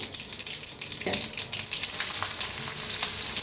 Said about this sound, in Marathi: थोडस तेल तापले त्याच्यात टाकूया मोहरी अर्धा चमचा